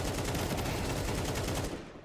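Rapid gunfire from the Rainbow Six Siege video game, a dense burst of shots that holds steady before tapering off at the end.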